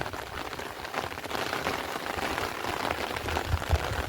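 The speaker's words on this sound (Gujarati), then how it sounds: "સખત બે દિવસથી એક દરો વરસાદ પડે છે આવા ઝીણા ઝીણા છાંટા" Light winter rain drizzling in rural Gujarat under heavy cloud, a steady, soft hiss of fine drops pattering on surfaces nearby, unbroken throughout with no talking.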